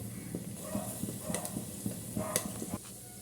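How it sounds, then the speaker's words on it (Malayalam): Whole spices crackle in hot ghee and coconut oil for mutton biryani: quiet, irregular pops and light sizzling, close by, with no talk. "നമുക്ക് എടുത്തു വെച്ച മസാലകൾ ഇട്ട് കൊടുക്കാം കേട്ടോ ഒന്ന് പൊട്ടി വരട്ടെ"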